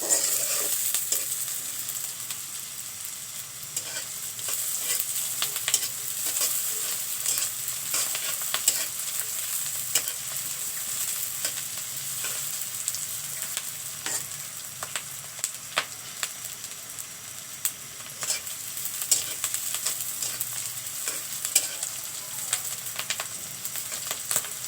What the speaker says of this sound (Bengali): আমি পেঁয়াজগুলো একটু ভেজে নিচ্ছি, লাল লাল করে নেব।